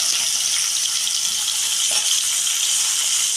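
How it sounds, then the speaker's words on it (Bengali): Cut potatoes frying in a pan for a Bengali ridge gourd and potato poppy-seed dish, giving a steady, loud broadband sizzle that stays even throughout with no talk. "আলুগুলো আমি একটু ভেজে নেব।"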